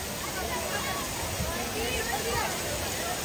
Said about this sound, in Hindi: यहाँ गिरेगा पानी, यहाँ गिरेगा पानी